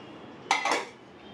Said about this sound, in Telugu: మూత పెట్టేసి వదిలేద్దాము